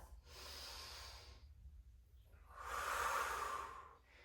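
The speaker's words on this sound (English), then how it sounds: "Take a cycle of breath." Slow, deep breaths during a yoga flow workout: a long airy inhale, a pause, then a stronger hissing exhale, soft and close with a faint background hum and no talking.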